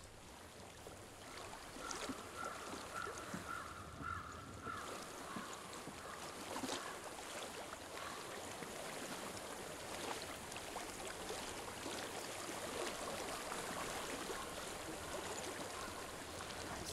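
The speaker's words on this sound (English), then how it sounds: "I hear water. Go to it." Steady broadband rush of flowing water, like a stream running nearby, in the video game Hellblade: Senua's Sacrifice, continuous and fairly soft with a faint breezy hiss over it.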